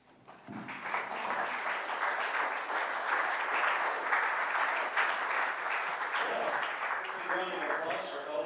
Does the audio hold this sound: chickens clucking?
no